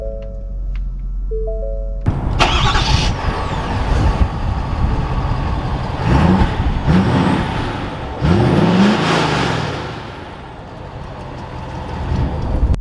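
A 2021 Ford F-350 Lariat pickup truck starts up with a loud crank, then its engine idles and revs as it pulls away and drives, with gear shifts and rising and falling acceleration close by.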